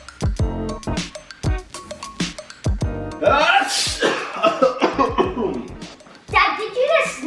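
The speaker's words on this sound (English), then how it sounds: "did you just sneeze on me?" A father sneezes close by amid a family prank at home, a short burst among children's excited chatter and laughter that carries on around it.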